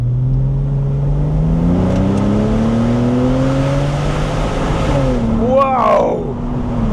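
A Porsche 997 Turbo Tiptronic Cabriolet, roof down, accelerates hard: a loud, steadily rising engine note climbs through the gears with a brief shift dip near the end, heard from inside the car.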